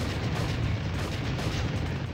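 Grenade blast in Army Men: Sarge's Heroes 2, a dense, continuous low rumble and crackle of battle that holds steady throughout with no distinct single boom standing out.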